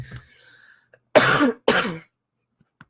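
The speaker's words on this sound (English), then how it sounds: "I'll try not to cough, but I feel one coming." Two harsh coughs in quick succession, close and loud, after a brief soft sniff; silence follows.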